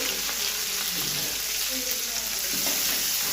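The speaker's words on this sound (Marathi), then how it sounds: "आता ही हिरवी मिरची व्यवस्थित आपल्याला मिक्स करून घ्यायचे आहे तळून घ्यायचे आहे" Green chillies fry with cumin in a pan for a fasting-style potato dish. A steady, close sizzle runs without a break, with faint stirring scrapes underneath and no one talking.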